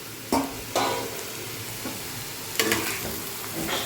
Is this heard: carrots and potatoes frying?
yes